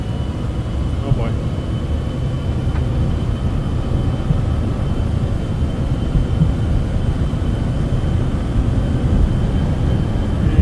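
A jetliner rolls down the runway for takeoff in Microsoft Flight Simulator 2024, a steady low engine roar and rumble that holds even throughout, with a voice talking over it.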